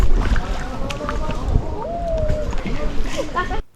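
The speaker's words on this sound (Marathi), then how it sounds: "आता एका नॅचरल कांदळवनाच्या केवमधून आता आमची बोट जाते." A kayak gliding through a natural mangrove channel near Nivati, with steady water swishing and paddle splashes under ongoing talk, ending abruptly.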